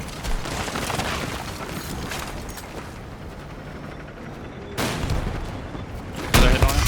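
A tank in the Battlefield 6 battle royale mode takes fire, with dense, loud gunfire and heavy booms rolling on throughout and sharper bursts of explosions near the end.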